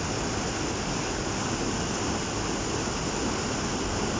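Water rushes steadily through Lydford Gorge on Dartmoor, a dense, unbroken roar that fills the whole stretch at constant loudness with no voices.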